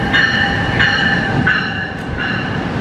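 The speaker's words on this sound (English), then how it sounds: "Double-decker train on the New Jersey Transit." Interior rumble of a New Jersey Transit double-decker commuter train in motion, a loud steady roar with faint periodic wheel clicks and a brief high squeal, no one talking.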